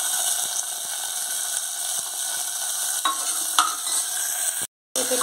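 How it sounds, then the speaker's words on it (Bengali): Papaya pieces fry and sizzle in hot oil with panch phoron while a spatula scrapes and stirs them in the pan, steady crackle with a few clicks and a brief dropout near the end. "পেঁপেটা ভালো করে তেলের সাথে দিয়ে ভেজে নেব।"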